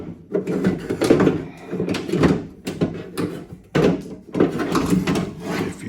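A broken window regulator being wiggled out of a junked Honda Element door shell, giving repeated rattling, clunking and scraping of metal parts inside the door, close and fairly loud in uneven bursts.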